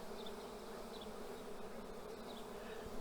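Honey bees at a hive give off a dense, continuous buzzing hum, steady and close, with no voices.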